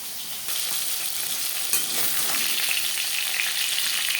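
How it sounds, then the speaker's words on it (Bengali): Steady hot-oil sizzling and frying hiss of fish frying, continuous and close, with no talking. "মাছ ভাজা হয়ে গেছে।"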